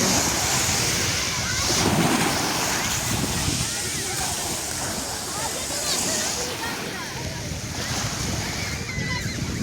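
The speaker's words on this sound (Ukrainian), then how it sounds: "Ось таке сьогодні в нас море." Sea waves wash onto a beach in Turkey, surf rising and falling in steady surges, with wind buffeting the microphone and people talking in the background.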